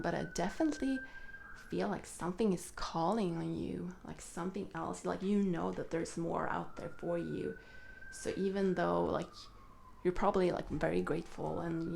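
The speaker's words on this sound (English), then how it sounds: "I don't know if you hear the sirens in the background" An emergency vehicle siren wails faintly in the background, rising and falling in long, distant sweeps beneath a person speaking steadily in the foreground.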